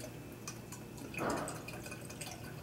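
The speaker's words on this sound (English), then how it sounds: "I'm gonna go ahead and dump the entire can" Fuel additive poured from a full can into a fuel container holding about 2 gallons, for a Suzuki GSX-R1000 motorcycle; a brief, close liquid gush swells and fades over a steady background with faint drips.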